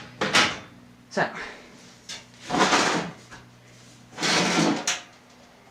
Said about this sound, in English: So we just pop the panel off.